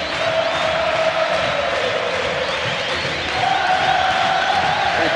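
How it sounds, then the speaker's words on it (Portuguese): Ipatinga football supporters singing together in the Ipatingão stadium during a 2007 Brazilian Série B match, a continuous, massed chant spread across the stands with steady crowd roar. "Canta no Ipatingão, a torcida do Ipatinga."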